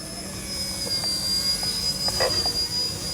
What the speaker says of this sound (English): this is a little bit different to a plane, but we're flying. We're flying helis.